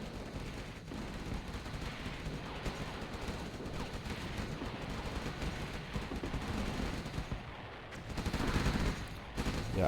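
Air units unleash artillery in a strategy video game, a dense continuous barrage of rumbling gunfire and blasts that swells louder near the end.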